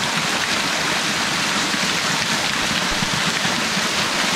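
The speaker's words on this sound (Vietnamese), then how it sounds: "Nước đang chảy xuống." Water rushes down a trough beside a forest stream, a dense, continuous splashing roar like heavy rain, loud and close, with no voices.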